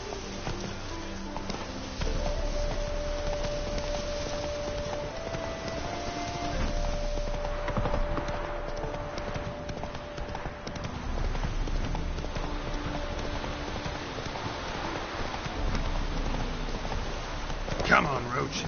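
Roach, a horse in The Witcher, gallops with steady clip-clopping hooves under game music and ambient sound, continuing through most of the stretch with a brief louder hit near the end.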